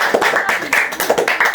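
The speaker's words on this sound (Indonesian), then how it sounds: "Tepuk tangan, tepuk tangan." Children in an Indonesian classroom clapping hands, a quick series of sharp, close claps in an uneven rhythm, with faint voices beneath.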